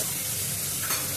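Dried red chillies sizzle in hot oil in a dense, steady crackle, close and even for a brief moment.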